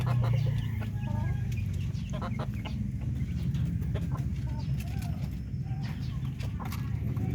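Native darag hens clucking and calling close by in a farm setting, with a steady run of clucks over a continuous background of poultry noise.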